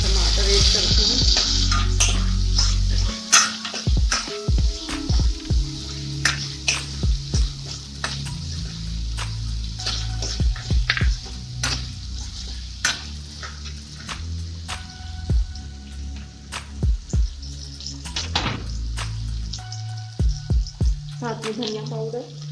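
Chopped tomatoes tipped onto lightly browned onions in a hot pan, raising a loud steady sizzle with wet spattering crackles and stirring clatter, frying on continuously to the end.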